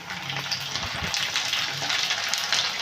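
Sliced onion frying in a pan with a spoonful of ginger paste just added, for a dried-fish curry with potato and eggplant, giving a loud, dense, unbroken sizzle with faint stirring knocks underneath and no speech.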